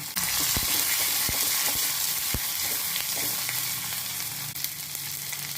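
Dried red chillies, curry leaves and chopped shallots sizzle and crackle steadily in hot oil, with scattered sharp pops and the occasional stir of a pan.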